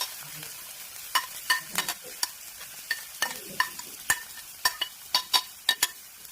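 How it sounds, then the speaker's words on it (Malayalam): Chopped shallots sauté in hot coconut oil, with quiet sizzling broken by about a dozen sharp clicks of a utensil stirring the pan at an uneven pace, close and alone. "ഇത് നമ്മൾ ഇനി എണ്ണയിലേക്ക് ഇട്ട് വഴറ്റും"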